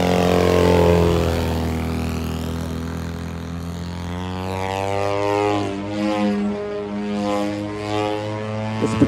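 A Skywing RC aerobatic airplane flies past at an air show demo, its engine droning loudly and shifting pitch as it climbs, turns and swoops overhead.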